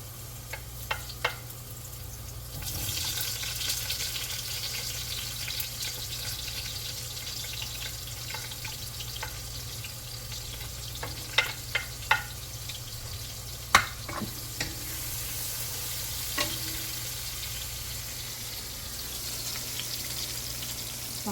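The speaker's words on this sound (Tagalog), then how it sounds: "Gigisa lang ako ng bawang sibuyas" Garlic and onion sautéing in oil for chopsuey on a rainy day, a steady sizzle with occasional stirring clicks and utensil taps, close and continuous with no talk.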